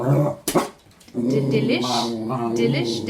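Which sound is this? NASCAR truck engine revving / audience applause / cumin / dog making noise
dog making noise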